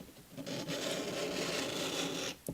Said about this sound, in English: use it as a squeegee to lay this silicone down flat